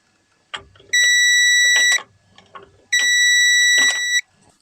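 A continuity tester sounds off as the reverse switch on a barn-find Toyota TA22 Celica activates: two long, steady, shrill beeps of about a second each, separated by a short gap with light clatter.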